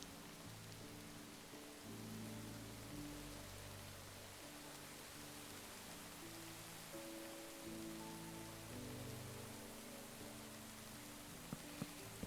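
Steady, dense rain hisses evenly throughout, with low sustained tones humming beneath it and no voices.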